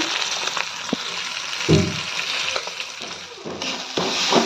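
Food fries in a pan in a home kitchen, a steady bright sizzle with occasional stirring scrapes and a sharper burst of hissing midway, close and loud, no one speaking.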